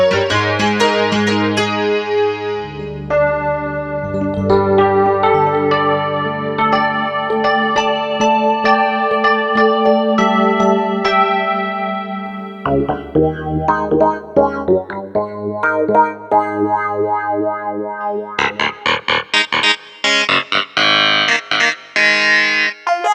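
Yamaha PSR-E373 keyboard cycling through several voices, each a near-identical tone changed by a different effect, with sustained chords and melodic lines, distorted and chorus-like textures, and choppier staccato patches toward the end, played loud with no talking.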